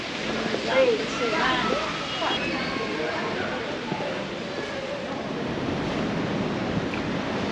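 Mediterranean Sea waves wash onto the coast at Nettuno near Rome, a steady broad surf rush with some wind, loudest early and holding level throughout.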